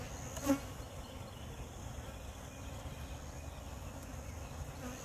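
A steady, faint buzzing of honey bees fills the air, with a brief louder drone as one passes close early on, and no talking.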